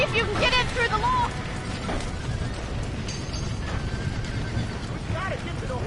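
A horse neighs and whinnies in the video game Red Dead Redemption, loud and close, with a few shrill calls over a dense, noisy backdrop of rumbling and clattering action.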